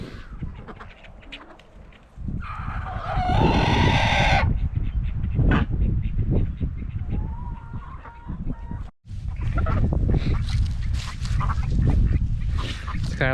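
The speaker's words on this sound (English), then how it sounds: "It's kind of like prison for these two call ducks." Call ducks and chickens squabble on a farm, loud honking quacks and squawking clucks overlapping in a dense, continuous racket close by, with a brief pause before the noise resumes.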